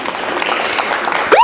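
An audience at a political parties award ceremony breaks into a short burst of applause, a dense patter of many hands clapping, with a faint voice rising near the end.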